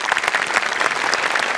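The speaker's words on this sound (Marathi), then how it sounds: "क्या बात, जोरदार टाळ्या." Loud, sustained applause from a studio audience at a Marathi comedy show, dense clapping filling the whole stretch without a break.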